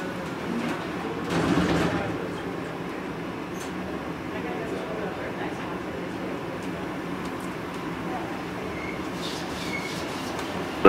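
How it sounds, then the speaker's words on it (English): An automated people mover train at CVG airport pulls away from a station, a steady rolling rumble with faint rattles and a brief louder surge near the start. "This train is leaving this station."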